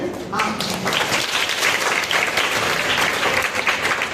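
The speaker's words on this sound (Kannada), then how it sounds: "ಸೊ ಎಲ್ಲದಕ್ಕೂ ಚಪ್ಪಾಳೆ ಕೊಡ್ತಾ ಇದ್ರೆ ಭಾರಿ ಖುಷಿ ಆಗ್ತದೆ ಮತ್ತೆ ನಮ್ಗೆ." A school audience claps loudly and continuously, a dense close wash of many hands that lasts the whole few seconds with faint voices mixed in.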